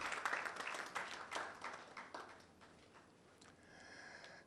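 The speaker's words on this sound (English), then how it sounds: "Please give Airtel Tigo another round of applause" Audience applause at a National Science and Maths Quiz balloting event, a burst of clapping that is strongest at the start and fades over a few seconds, with a faint tonal hum near the end.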